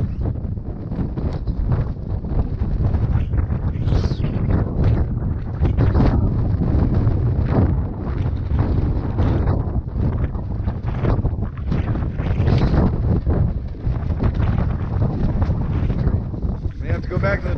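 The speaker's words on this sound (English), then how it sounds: "we've got about sustained winds of about 40 miles per hour, gusting to 60." Strong wind roars and gusts against a greenhouse in sustained winds near 40 mph with gusts to 60, a loud, continuous buffeting broadband rush with rattling surges throughout.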